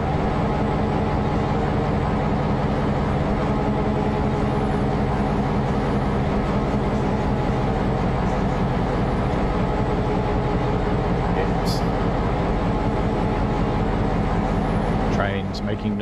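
An Amtrak passenger train full of skiers rolling along the rails near Denver, a steady loud low rumble with rhythmic wheel clatter, and a brief high squeal near the end.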